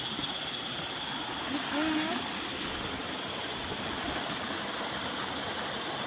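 A stream flows steadily nearby, its continuous babbling rush unbroken, with a faint voice briefly audible partway through.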